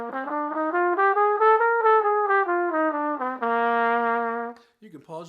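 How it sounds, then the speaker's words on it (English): Trumpet playing a C dominant bebop scale as a run of clean, separate notes rising and then falling, with a long held tone near the end, solo and close. "or in a dominant bebop scale. It sounds like this."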